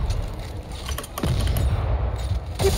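Gunfire in Dead Space 3 lands as several loud, sharp shots and booming bursts amid heavy low rumble and mechanical clatter, close and without talk.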